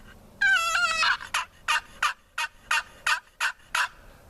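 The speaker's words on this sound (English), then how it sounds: "There is no tone like that on a box call anywhere." A wooden turkey box call dragged to make turkey sounds: a quick rattling gobble-like run followed by about nine sharp, evenly spaced yelps, close and loud with no talking.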